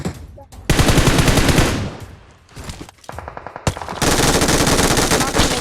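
Dense automatic gunfire from the mobile battle-royale game PUBG Mobile, loud sustained bursts of rapid shots with brief pauses between volleys.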